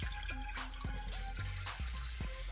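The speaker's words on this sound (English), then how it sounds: "when we pour it in, we want to make sure it's hitting that white strainer" Homemade syrup is poured through a white strainer, making a steady, continuous liquid rush and trickle throughout, with faint tonal sounds in the background.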